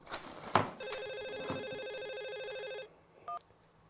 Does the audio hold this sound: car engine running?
no